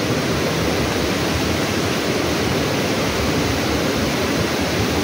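A shower runs with a steady, close, unbroken rush of spraying water that fills the whole moment as an even hiss with no breaks.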